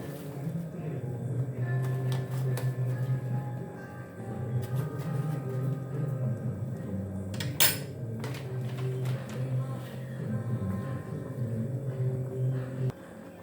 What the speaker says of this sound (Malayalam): ശർക്കരപ്പൊടി ഇട്ട് കൊടുത്തിട്ട് അത് നല്ലോണം ഇളക്കി കൊടുക്കാം